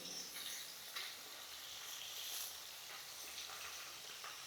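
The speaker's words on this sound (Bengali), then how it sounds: "এবার মাছগুলোকে আমি বেশ খানিকক্ষণ ধরে ভাজবো, একটু ভেজেই তুলে দেবো।" Catla fish pieces frying in hot oil in a pan give a steady, even sizzle with soft crackles throughout, fairly faint and close, with no talking.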